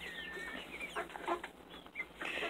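Black Sexlink chickens cluck and chirp softly in a flock, with short scattered calls rising and falling over faint background noise and no speech.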